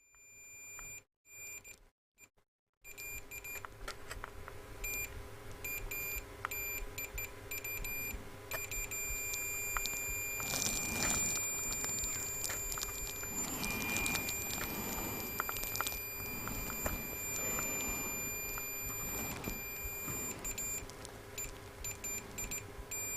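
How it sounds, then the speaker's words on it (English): Steady electronic beeping runs through the clip, thin high tones repeating over a background of mechanical clatter and rattling. "Apologies for the beeping noise."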